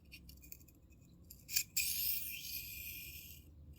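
A knife drawn across a Smith's tri-stone sharpening stone labeled 1,000 to 1,200 grit: a short rasping stroke, then a longer steady scraping pass, faint and close in a quiet room.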